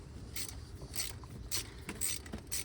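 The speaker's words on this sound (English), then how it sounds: "time to extract spark plug number 2 here." A ratchet wrench clicks in short, repeated bursts about every half second while backing a spark plug out of a Toyota 4.7L 2UZ-FE V8, close up, with low background noise and no talking.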